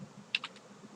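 A few quick keystrokes on a computer keyboard as a file name is typed, with two or three sharp clicks close together over a quiet room hum, no voices.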